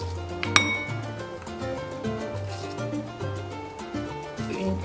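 Metal spoon clinking against a cup while stirring coffee with water, a steady run of light, repeated chimes with one sharper strike near the start, close up and without talk.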